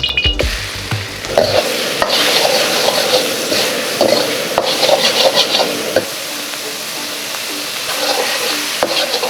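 Minced pork stir-fries in a wok with a loud, continuous sizzle and a rhythmic scraping of the spatula against the metal.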